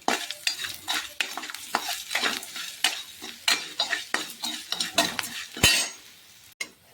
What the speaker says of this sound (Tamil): பூண்டோட பச்சை ஸ்மெல் போகிற வரைக்கும் நல்லா வதக்கி எடுத்துக்கலாம்.